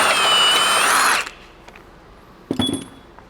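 A power tool loosens subframe bolts on a high-mileage Lexus, giving a loud sustained whirring burst for about a second, then a short quieter clattering burst.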